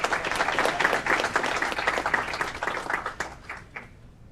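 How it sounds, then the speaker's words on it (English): An audience at a city council meeting in Aurora claps together for an award recipient, producing a dense, steady patter that fades out near the end. "Let's give David a round of applause."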